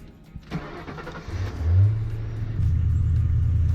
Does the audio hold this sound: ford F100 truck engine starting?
yes